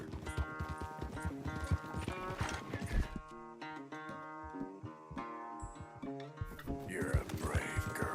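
Horses gallop through a race in Red Dead Redemption 2, with rhythmic clip-clop hoofbeats running under a musical score, broken by a brief pause midway before the hooves pick up again.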